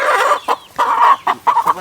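A country hen held in hand gives a series of loud, close clucks and squawks in short bursts with brief gaps between them.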